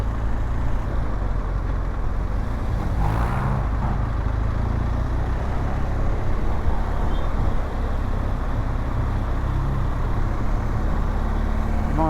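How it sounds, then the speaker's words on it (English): Road traffic surrounds a BMW R1200GSA motorcycle slowing into congestion in the UK, a steady broad roar of engines and road noise with a brief passing swell, no speech. "This is the first traffic that we've kind of come into contact with, really."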